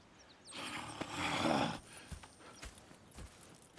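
Horse hooves clip-clop in Red Dead Redemption 2, a steady stream of hoofbeats at moderate distance. They swell briefly, then thin into scattered steps, with no talk over them.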